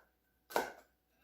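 A knife chops through celery stalks in a home kitchen, giving a single crisp cut with a short crunchy tail in an otherwise quiet room.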